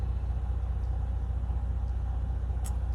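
2018 Freightliner Cascadia truck diesel engine idling, a steady deep low rumble with a regular throb, close and continuous, with a faint brief hiss near the end.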